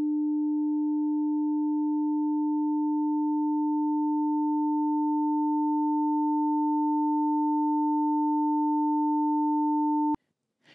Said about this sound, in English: if you take two waves, with frequencies that are multiple of each other, and then add them together, then wabam, you get a more complex sound with harmonics